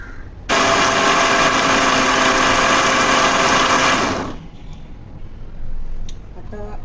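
A mixer grinder blending a tender coconut ice cream mixture runs with a loud, steady whirring buzz for about four seconds and then cuts off, leaving quiet room sound.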